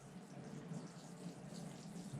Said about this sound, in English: So I've got a little bit of rainwater left in this bottle, so we'll just water it through